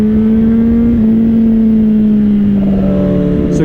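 A carbon-bodied BMW M1000RR sport motorcycle engine runs close by with a steady, loud tonal drone. Its pitch shifts slightly and lifts toward the end, and no one speaks over it.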